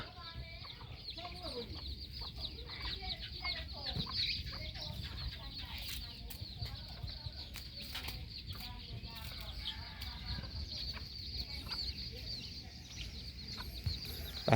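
Chickens on a farm cluck and chatter in a busy, fairly quiet mix of short repeated calls, with a steady background hum running underneath.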